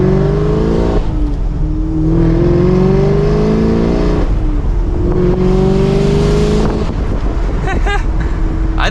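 Engine note of a 2023 Chevrolet Camaro Convertible 2SS heard from inside with the windows up, a deep V8 drone rising in pitch through repeated accelerations and gear changes, loud and close over road and wind noise, with no talking.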